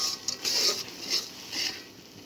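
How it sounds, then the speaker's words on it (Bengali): Grated coconut is stirred into melted jaggery in a pan for coconut naru, giving a series of soft, rhythmic scraping strokes, close and moderately quiet, with no talking. "এবার দিয়ে দেবো এই নারকেলগুলো। আমি এটা দিয়ে একটু নাড়াচাড়া করে নিচ্ছি।"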